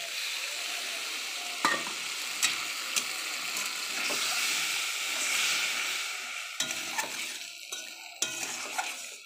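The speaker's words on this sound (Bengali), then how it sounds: "এবার এটা একটু করে জল দেবো আর কষতে থাকবো মশলাটা।" Spice paste of dried chilli, cumin, onion, ginger and garlic stirred and fried in a pan with splashes of water, giving a steady close sizzle with scraping spatula strokes and occasional clinks against the pan.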